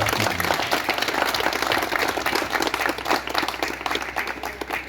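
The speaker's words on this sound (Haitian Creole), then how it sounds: "nous demandons toute assistance pour battre un gros bravo pour la fondation" An audience at a foundation's school inauguration ceremony applauds continuously, a dense, loud wash of many hands clapping with no break.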